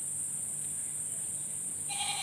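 A goat bleats at an animal hospital in Kalna, India, a short bleat arriving near the end over a steady high electronic whine and low room noise.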